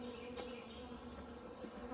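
Honey bees buzz steadily around hives being split into new colonies, a dense, continuous close-up drone with no voices.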